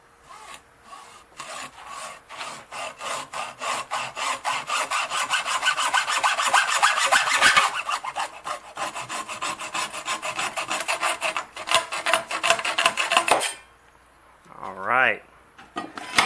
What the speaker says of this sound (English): you can see the reason we had to use that hacksaw